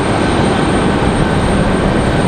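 An airplane on the runway at Raleigh-Durham International Airport gives a loud, steady engine roar that stays constant throughout, with no voices over it.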